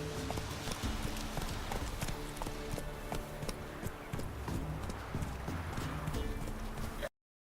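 A horse gallops in The Witcher 3 video game, steady rapid hoofbeats close and continuous for about seven seconds before cutting off abruptly.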